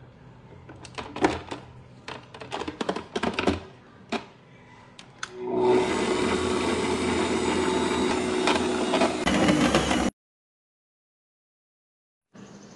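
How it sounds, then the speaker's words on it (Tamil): An electric beater kneads maida flour dough for coconut buns, starting after several clicks and knocks with a steady loud whirring drone for a few seconds, then cutting off abruptly into silence. "நான் இன்னைக்கு பீட்டரில் போட்டு பிசைஞ்சிக்க போகிறேன்."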